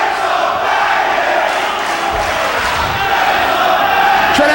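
A hometown wrestling crowd fills an arena with a dense, continuous roar of cheering and shouting, loud and sustained throughout.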